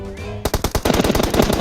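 Rapid automatic gunfire in the mobile battle royale game PUBG Mobile, a loud, steady burst of repeated shots that begins abruptly after a short lead-in of other game sound.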